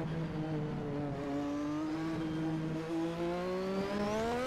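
Race car engine in Assetto Corsa with an H-pattern shifter at Brands Hatch, a steady loud drone whose pitch climbs slowly as it accelerates, alone without talk.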